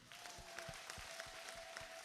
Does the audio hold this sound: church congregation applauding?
yes